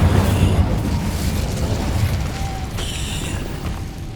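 A Confringo fire spell in Hogwarts Legacy bursts loud and close, a heavy booming blast that rumbles on with crackling debris throughout, with no voices.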